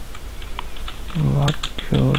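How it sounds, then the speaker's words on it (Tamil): Rapid keystrokes on a computer keyboard while writing HTML and CSS code for a drop-down box, close, crisp clicking throughout, with a voice talking over the second half. "சும்மா ஒரு லெட்டர் டைப் பண்ணுறேன்"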